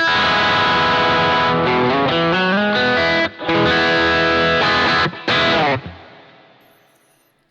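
Distorted electric guitar through a Boss GT-1000CORE preamp with a 2x12 cabinet model plays a run of chords and notes with a brief stop, then a final chord rings out and fades.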